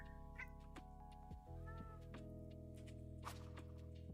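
A cat in a life-simulation game meows several times in short, close calls over a steady tonal music bed, with one drawn-out whining meow near the middle.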